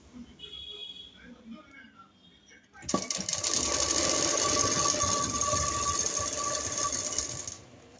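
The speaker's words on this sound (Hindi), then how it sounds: "अब हम सीधी कर देंगे सिलाई इसमें।" Sewing machine stitching a straight seam on a baby dress belt, starting after a few seconds of quiet handling and then running as a steady, close mechanical whir for about five seconds.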